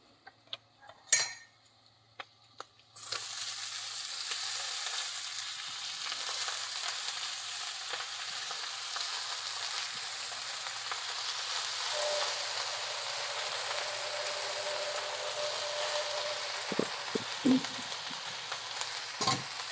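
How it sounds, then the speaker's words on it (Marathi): Tandulsa greens dropped into a hot garlic tempering set off a loud, steady sizzle after a few clinks of a pan, and the frying stays strong throughout with some stirring scrapes near the end. "आता ह्याच्यामध्ये आपण तांदूळशाची भाजी टाकून घेऊया"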